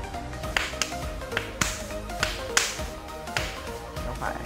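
Hand claps testing a homemade sound sensor circuit, a series of short crisp claps in an uneven rhythm, close to the microphone over a steady low hum.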